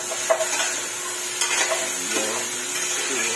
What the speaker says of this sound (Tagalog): Igigisa natin na ganito. Isiwar-siwar natin para masaya.